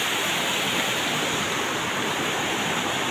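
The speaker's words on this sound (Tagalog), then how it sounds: "Baha guys." Floodwater rushes under a rural hanging bridge in a steady, loud, unbroken roar of churning water. No voices are heard.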